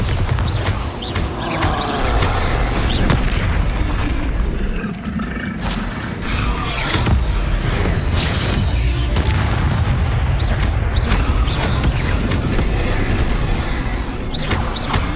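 Confringo and Bombarda spell blasts from the Hogwarts Legacy video game on Xbox Series X, a dense run of loud, booming explosions with rumbling low end and sharp bursts repeating throughout, with shouted spell calls among them.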